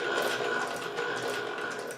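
A Varley Cyclops antique sewing machine runs with a continuous mechanical whir and steady rapid rattling, moderately loud and close, with no voices.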